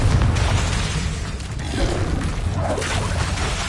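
A Confringo explosion spell goes off in the video game Hogwarts Legacy: a loud, continuous blast of roaring, crackling noise with a deep rumble that holds for several seconds without a break.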